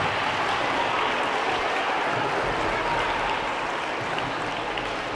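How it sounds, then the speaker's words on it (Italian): Broad, steady applause from a crowd at a sports club event with Parma Calcio players at PalaDondi in Soragna, a continuous wash of clapping heard from some distance, even in level throughout with no voices on top. "Grazie mille per l'applauso"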